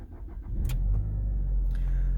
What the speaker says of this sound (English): we're ready to turn on the ignition.